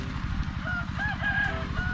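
Chickens cluck and call in short bursts over a steady, pulsing generator rumble close by, on a farm.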